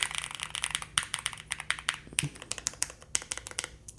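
Mechanical keyboard typing on a Nuphy Air 75 V3 with sound-dampening material inside, giving a deep, thocky tone; a rapid, steady run of close, crisp keystrokes carries on throughout.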